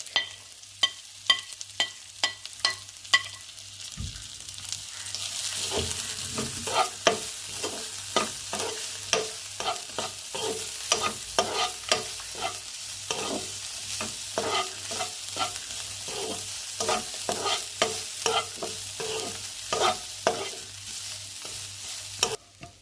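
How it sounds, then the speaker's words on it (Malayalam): Grated coconut being stirred in a hot pan for chicken chammanthi, with rhythmic scraping strokes of a spoon and a steady sizzle of frying that continue throughout, close up with no voices. "ഇനി നമ്മൾ എടുത്ത് വെച്ച തേങ്ങ ഇതെല്ലാം കൂടി ഒന്ന് ഇതിലേക്കിട്ട് ഒന്ന് ഇളക്കിയെടുക്കാം"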